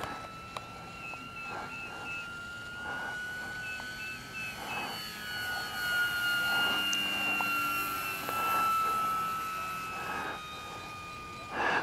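A model airplane's engine runs at high RPM overhead, heard as a thin, sustained buzzing whine with shifting pitch that swells and fades slightly as the aircraft passes at a distance, alongside faint outdoor background noise.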